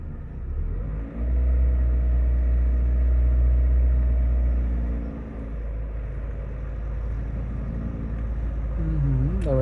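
A car idles with a deep low rumble, then its engine note rises as it pulls away from a stop at a yield-sign junction, followed by a steadier drone and a final revving swell; faint voices are barely present.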